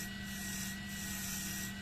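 Sandpaper rubs against spinning wood on a woodturning lathe, a steady, soft, continuous rasping hiss with the lathe's low hum underneath, no talking.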